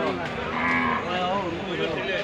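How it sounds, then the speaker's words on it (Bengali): A Sahiwal cow at a cattle market in Sylhet gives one loud, sustained moo close by, with market noise in the background. "এখানে সুন্দর একটি সাহিওয়াল গরু"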